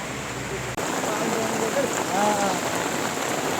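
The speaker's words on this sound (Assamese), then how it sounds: "হেৰি বৰষুণ" Steady rain in hill country, heard from inside a vehicle as a continuous broadband hiss with a brief dropout near the start and faint voices underneath.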